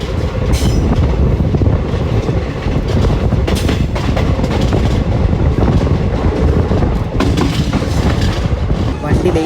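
Passenger train rolling on rails on its approach to Bathinda in Punjab, a steady loud rumble with rhythmic wheel clatter and occasional metallic squeals throughout, with faint voices mixed in.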